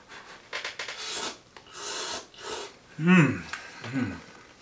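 Several wet, raspy slurping draws on Shin Ramyun instant noodles come close up, separated by short pauses, followed by a couple of brief vocal sounds.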